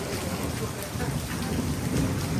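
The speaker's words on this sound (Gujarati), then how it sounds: "વરસાદ ગોવામાં બહાટી ચાલુ છે" Heavy monsoon rain in Goa pours in a loud, dense roar with a deep rumbling undertone, steady throughout and close by.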